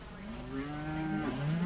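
Cows kept by locals in gorilla habitat moo once, a drawn-out low call rising and bending in pitch, fairly faint and distant against a quiet outdoor background with light insect chirring.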